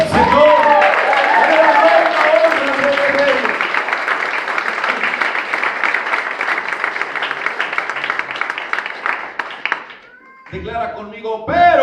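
Strong applause and clapping from a church congregation at a Spanish-language worship service, loud and sustained for several seconds, then fading into a pause before a voice speaks.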